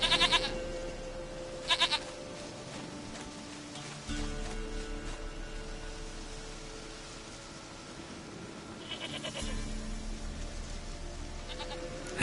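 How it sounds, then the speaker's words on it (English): Goat bleating in The Witcher 3: Wild Hunt, a few short nasal bleats at the start and again near the end over a steady background ambience, with no talk. "Goat of mine, dearest, sweetest goat."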